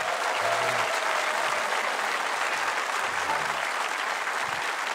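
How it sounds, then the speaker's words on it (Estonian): Steady, dense applause from a concert audience greeting the accordion and diatonic button accordion players of the Põlva accordion event, a continuous wash of clapping that stays loud and even throughout. "Tervitame neid veel kord ühe tormilise aplausiga"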